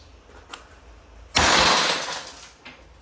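Umarex TR50 airgun firing a .50 calibre rubber ball at a target: one sharp, loud crack with a short smashing burst, then quieter noise, preceded and followed by faint clicks.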